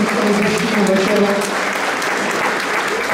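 An audience at a Hodonín musicians' ball claps in sustained, dense applause, loud and steady throughout without breaks.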